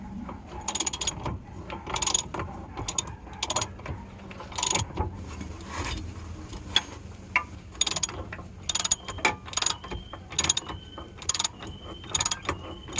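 Wrench ratcheting as bolts on a Piaggio Ape City rubber coupling are tightened, close, crisp repeated clicking in uneven bursts with short pauses between strokes.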